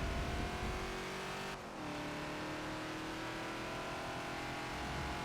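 A Ford Falcon XB in the Forza racing game at the Spa circuit gives a loud, steady engine drone that dips briefly in pitch, as if shifting or lifting off the throttle, then pulls on continuously.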